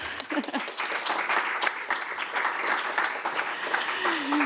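Steady applause fills a lecture hall at a psychology and economics conference day, a sustained wash of many hands clapping at moderate volume throughout.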